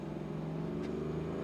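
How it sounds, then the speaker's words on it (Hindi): A Mahindra Bolero Neo SUV climbs uphill in third gear. Its engine gives a steady, moderately loud droning hum with a faint rattling texture throughout. "थर्ड गियर में हम आराम से ऊपर चढ़ चुके हैं।"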